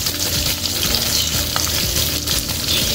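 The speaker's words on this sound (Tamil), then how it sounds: "பச்சை மிளகா லைட்டாக பொரிஞ்சது வெங்காயத்தையும் அதில் சேர்த்துக்கணும்." Onions, green chilies and curry leaves fry in hot oil, a close, steady crackling sizzle with occasional stirring scrapes throughout.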